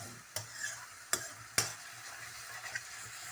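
Okra with onion and masala is stirred and fried in a pan, a soft sizzle running underneath three sharp scraping strokes of a spatulaa close by, with no talk.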